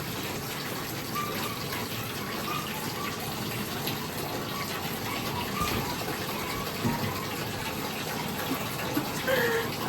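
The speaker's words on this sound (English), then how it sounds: "Now I gotta wash off her paws individually." Water running while a black cat's paws are washed, a steady gushing stream like a tap or shower that continues for the whole stretch, with faint splashes on top.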